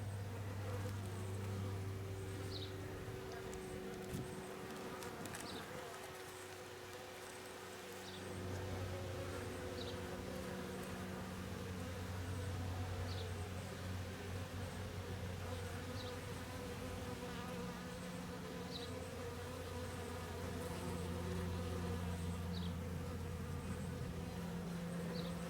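Honeybees fanning and buzzing at a hive make a dense, continuous drone, with occasional single bees passing close, all at fairly low level and without talk.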